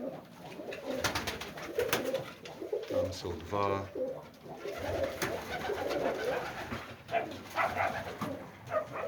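Stork pigeons coo softly in a steady, low murmur, with a few brief spoken words in Polish and occasional sharper calls in the background.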